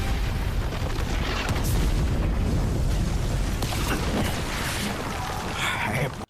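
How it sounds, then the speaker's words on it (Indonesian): A huge explosion in an animated fantasy battle, a loud, dense roaring blast that rumbles continuously for about six seconds before cutting off abruptly. "Begitu juga dengan tubuhnya si Jonas, sehingga terjadinya ledakan yang begitu besar."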